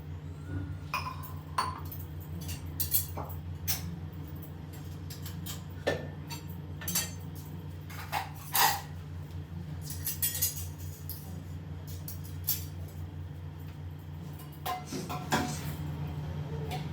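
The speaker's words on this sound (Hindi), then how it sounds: "थोड़ा सा बर्तन में रात का जो है वो धुला हुआ रखा हुआ था, बस मुझे स्टैंड पर रखना था" Freshly washed utensils and dishes set one by one onto a drying stand in an Indian home kitchen, scattered light clinks and clatters of metal, faint against a steady low hum.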